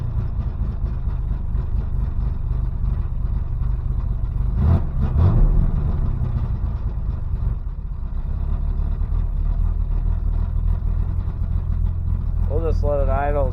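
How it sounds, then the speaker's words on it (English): A 1988 Chevrolet S10 pickup engine idles with a low, steady drone throughout, a brief louder swell midway and a voice cutting in near the end. "We'll just let it idle and see if we can get the temperature up at all on it."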